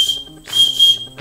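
A small plastic whistle built into a fire striker gives a bright, steady, shrill tone, close and loud, in two or three blasts over about a second.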